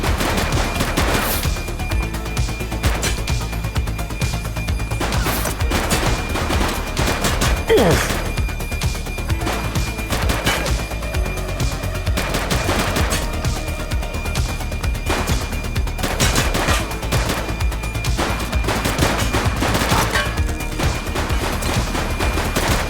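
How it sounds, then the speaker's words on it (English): Gunfire in the police video game The Precinct, dense bursts of rapid shots and heavy impacts rattling almost without pause, loud and close throughout. "He's shooting!"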